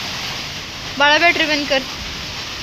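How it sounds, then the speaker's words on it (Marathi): Wind-driven rain storm beating on a house with a sheet-metal roof, a steady hiss of rain and gusts throughout, with a short spoken phrase over it partway through. "हा बघा, पुन्हा एकदा वाऱ्यानं पावसानं धमाकूळ"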